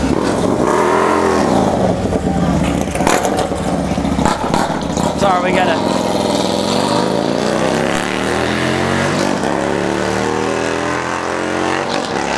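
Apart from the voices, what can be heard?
loud motorcycle passing by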